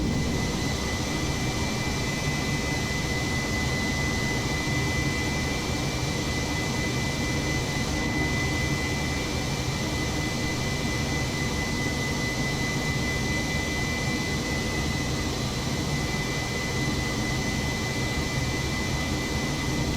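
An airliner climbing out of Luton in Microsoft Flight Simulator 2020 gives a continuous, loud jet-engine roar, steady and unbroken for twenty seconds, with a faint whine above the broad rumble and no voices.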